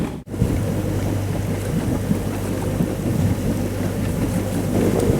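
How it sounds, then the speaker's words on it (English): A sailing yacht motoring under its inboard engine along the Greek Peloponnese coast, with a constant low drone and hum blended with wind and water wash, steady throughout. "We're just running on engine because our battery needed charge"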